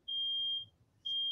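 Household smoke alarm likely set off by cooking, sounding two piercing high-pitched beeps, the first long and the second starting near the end, clear and moderately loud against a quiet room.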